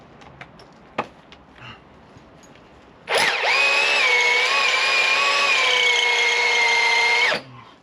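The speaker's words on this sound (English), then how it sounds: "Joys of drilling." A power drill whines at high speed for about four seconds, loud and close, after a few faint knocks and handling noises.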